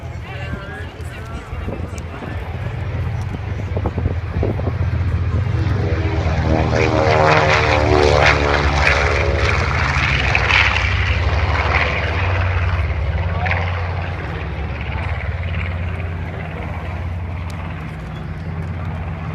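A B-25 warbird bomber comes in to land at a World War Two weekend air show, its radial propeller engines swelling to a loud, throbbing roar before easing off, while someone talks over the sound.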